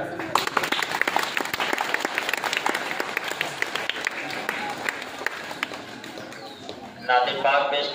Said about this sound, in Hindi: ताली बजा दीजिए भाई।